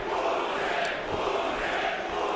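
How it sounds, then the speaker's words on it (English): A large boxing crowd chants loudly for Oleksandr Usyk at his bout with Michael Hunter, a dense, continuous roar that fills the whole stretch without a break. "crowd chanting for him"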